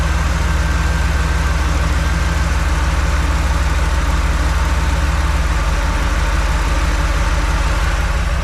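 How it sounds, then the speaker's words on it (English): A 1954 Chevy engine with HEI ignition, new intake and four-barrel carb idles a little high, a steady loud close rumble running alone without a break. "Might turn down that idle just a little bit. Sounds just a little high."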